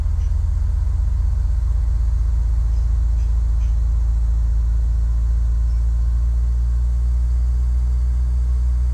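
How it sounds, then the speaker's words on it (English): Cessna 172 single-engine propeller plane in the flight simulator game FSX, its engine rising to about 1700 RPM for a run-up check, with a loud, steady low droning rumble heard alone and close throughout. "Let's go bring our prop RPM up to about 1700."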